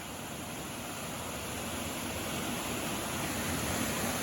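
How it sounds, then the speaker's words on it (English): A small waterfall pours in a steady, broadband rush of falling water, heard close and constant without pause or voices, growing slightly fuller toward the end. "look up this little waterfall here."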